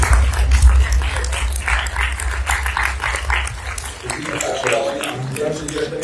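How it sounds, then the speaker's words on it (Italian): An audience at a film screening event claps in encouragement, scattered applause with a low rumble that fades slightly, then voices and a dog-like bark rise near the end. "Un applauso di incoraggiamento per Giulio."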